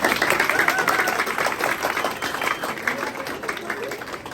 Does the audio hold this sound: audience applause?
yes